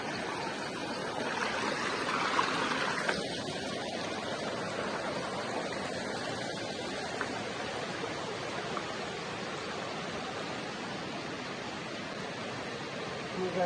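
A waterfall in Laos splitting into two branches, a loud, dense and unbroken roar of rushing water that fills the whole stretch evenly.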